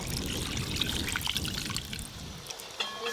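Mutton boiling stock pours from a vessel into a cooking pot with a close, gurgling trickle that runs for a few seconds, then tapers off into a few light drips and a soft clink.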